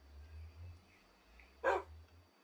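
A single short dog bark from a dog in the video game D3rpland, heard once near the end over a low steady game hum, fairly clear and close.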